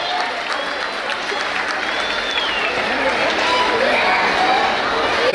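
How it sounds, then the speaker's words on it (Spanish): Applause for a teacher at a preschool graduation ceremony, a steady, dense wash of clapping from a sizable crowd that holds level and swells slightly toward the end, with voices and chatter mixed in. "Fuertes aplausos para el profesor, por favor."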